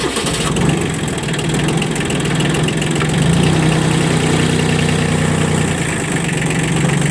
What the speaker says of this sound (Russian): Трактор запустился легко, работает ровно.